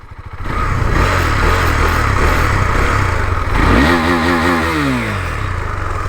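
A stock exhaust on a KTM Duke 390 motorcycle runs loud and close at idle with a steady, throbbing beat, swelling briefly with a short blip of revs midway before settling back.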